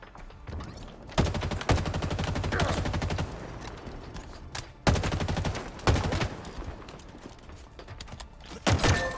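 Rapid automatic gunfire from a Halo Infinite multiplayer match rattles in loud, dense bursts, with a couple of sharp single shots between the volleys.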